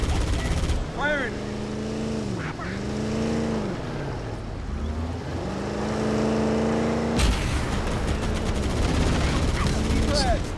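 Gunfire in a video game shootout, bursts of shots with a droning vehicle engine rising and falling underneath, turning into a thick crackling volley near the end.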